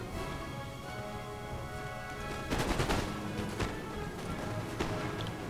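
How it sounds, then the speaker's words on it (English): Musket volleys crackle across a Napoleon: Total War battlefield, a dense ragged burst of many shots merging together, then scattered later cracks over a low continuous rumble of battle ambience. "So I'm firing in on his lights there."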